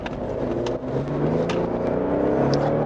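A Ford Explorer Platinum's 3.0-litre V6 gasoline engine pulling hard up a hill under heavy throttle, a steady rising whine and hum heard from inside the cabin, with no talk.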